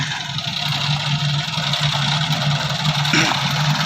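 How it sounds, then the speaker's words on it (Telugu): A goods transport truck sits with its engine idling at an unloading spot, a steady low rumble with faint vibration throughout, close and continuous. "బండి అయితే ఇప్పుడే వచ్చింది"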